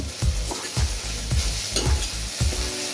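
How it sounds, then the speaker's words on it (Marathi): Grated fresh coconut is stirred in ghee, a soft sizzle under rhythmic scraping strokes that repeat roughly every half second, close and even with no speech. "आता हे खोबरं थोडंसं तुपामध्ये दोन मिनिटासाठी असं छान देखील हलवून घ्यायचं"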